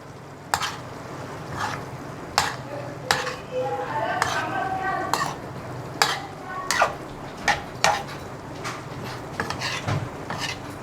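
A utensil stirs and scrapes Alexandrian-style liver in a pan: repeated sharp clacks and scrapes over a soft sizzle, with people talking nearby.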